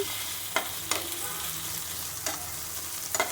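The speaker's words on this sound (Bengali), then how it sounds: "এখন আমরা নাড়াচাড়া করে নেব আদা রসুন বাটা দিয়ে" Chili with ginger-garlic paste sizzles steadily in a pan for a crab dish, with a few sharp scrapes and taps of a spatula stirring at irregular intervals, close and alone without talk.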